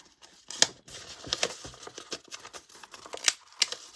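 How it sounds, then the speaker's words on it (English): A paper trimmer slices through craft paper among journaling supplies, giving a few sharp crisp cuts and crinkles at close range, with light handling rustle in between. "Oh, it's one of those paper trimmers."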